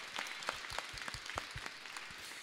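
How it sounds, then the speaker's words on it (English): A church congregation applauds, a thin scatter of separate hand claps at moderate distance, irregular and fairly quiet, lasting a couple of seconds. "Can you give a hand clap to the Lord?"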